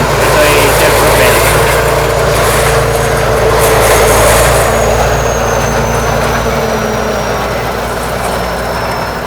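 Noom self-propelled forage harvester from Thailand running nearby, a loud steady heavy engine drone with a deep low rumble and a faint high whine that eases slightly toward the end.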